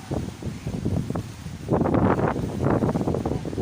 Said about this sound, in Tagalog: Wow! Mahangin po dito.